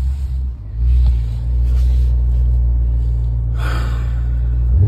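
A Mercedes E63s with all-wheel drive spins its wheels hunting for traction, a loud, close, sustained low engine rumble that swells and holds, with a brief hiss of tire noise near the end.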